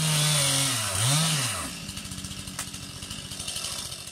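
A chainsaw cuts down eucalyptus trees during forest restoration work along Portugal's Mira River, the engine revving high and falling, then settling into a loud, steady buzzing idle with rapid pulsing, close by and with no talk.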